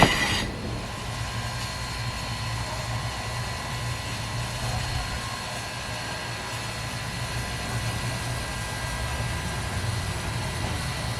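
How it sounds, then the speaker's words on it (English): A steam train rumbles steadily at a distance as it departs Essex on the Valley Railroad, with a low, continuous mechanical drone and faint high squealing, no voices present. "we head back to Essex to catch the departure of the next train"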